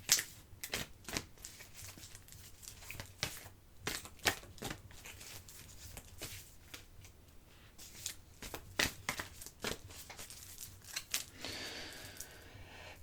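Tarot cards are cut and shuffled by hand in a run of crisp, irregular riffling snaps and slaps, close and fairly quiet, with a brief rushing flutter near the end.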